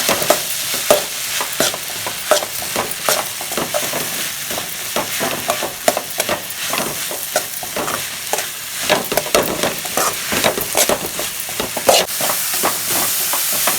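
Grated coconut sautéing with onion and tomato in a pan, loud and close, with continuous rapid scraping and stirring strokes over a bright sizzle, no voices.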